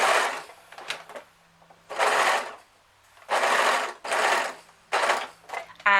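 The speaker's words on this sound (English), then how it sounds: "I've put my sewing machine on a mat to make it nice and easy to slide around" Domestic sewing machine stitching fleece beanie seams, running in short close bursts of whirring with quiet pauses between them and no talking.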